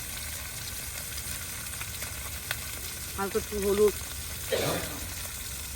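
Rice frying with egg, Maggi masala, onion and chili gives a faint, steady sizzle in a pan, with a few clinks and stirring scrapes as someone speaks briefly over it.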